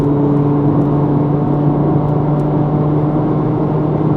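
A tuned Honda Civic 1.5 EX (FL1) engine, driven in Malaysia, holds a steady loud hum and whir under heavy throttle with a constant droning tone and no talking.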